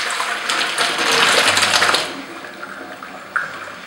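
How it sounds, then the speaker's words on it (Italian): Hot pasta water for carbonara pours out into a colander and sink, a loud rushing splash for about two seconds that tapers into softer trickling and dripping, with a small clink near the end. "andiamo a scolare la pasta"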